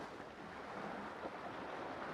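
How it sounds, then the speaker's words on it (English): Ocean waves washing onto a shore at a remote tropical Pacific island: a steady, broad rushing wash with soft surges, constant throughout and without any voices. "listening to the rhythmic pulse of the waves"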